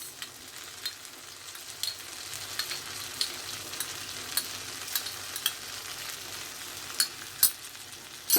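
Spicy pasta with soy sauce and tomato sauce being stirred in a pan, giving a soft, continuous sizzle with light irregular scrapes and clicks throughout, no voices.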